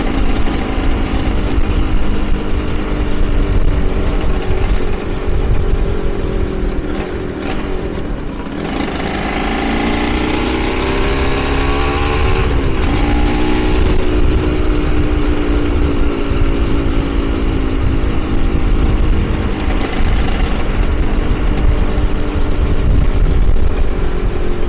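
A two-stroke Aprilia RS250 mk2 motorcycle runs loud and close, droning steadily, then the revs climb and fall in a few rising sweeps around the middle and again near the end.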